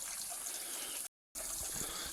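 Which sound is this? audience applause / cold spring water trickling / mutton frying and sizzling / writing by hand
cold spring water trickling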